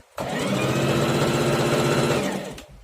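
A Singer 4423 portable sewing machine stitches a plain straight seam, a loud, close, steady mechanical whir that runs without pause for over two seconds before winding down, with no voices.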